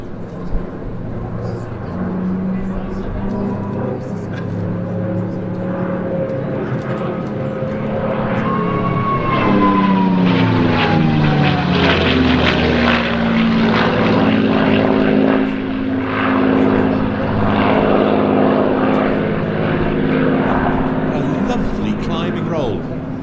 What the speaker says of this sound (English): The aircraft coming in for its final pass, so time for you to show your appreciation for a lovely sweeping display around the bay of the North American P-51D Mustang